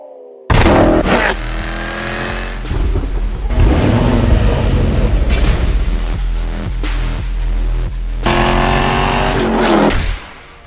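A Jaguar XE Project 8 performance saloon drives past loudly, its engine surging and revving hard with strong rising and falling throttle bursts throughout, no voices.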